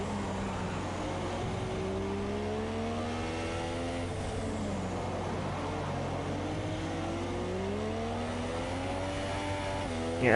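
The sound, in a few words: F1 race cars driving, from a video game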